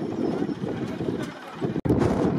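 Bullock carts race at a country racing ground in Ambegaon, Yeola, with hooves drumming on the earth beneath a dense, steady roar of crowd noise and shouting, broken by one brief dropout near the end.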